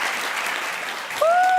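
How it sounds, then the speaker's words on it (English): An audience claps steadily through a competition finals event, with a dense wash of applause that swells near the end and a thin whistle or feedback tone rising over it. "One more round of applause to Mediated Ear."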